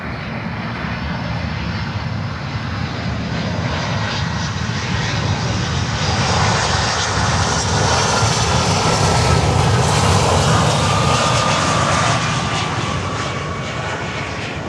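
A Delta Boeing 757 jet at Miami airport roars steadily and loudly close by, a continuous engine rumble and whine that swells slightly in the middle as the aircraft passes, with no talk over it.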